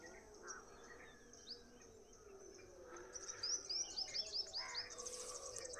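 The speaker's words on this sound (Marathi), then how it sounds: "पक्ष्यांचे सुंदर सुंदर आवाज आपण ऐकू शकतो" Birds chirping and singing at sunrise at a misty hilltop viewpoint in Tapola, with insects buzzing underneath; the calls are soft and distant at first, then a run of quick, brighter tweets grows nearer in the second half.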